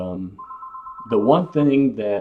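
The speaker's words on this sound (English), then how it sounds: "excuse my phone" A telephone rings with a steady electronic tone, followed by someone talking over it while he trades stocks at his desk.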